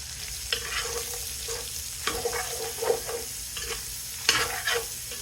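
Vegetables and mustard-marinated pork browning in a pan for Cajun pastalaya, a constant close sizzle broken by a few sharp scrapes and clacks from stirring, with no voices.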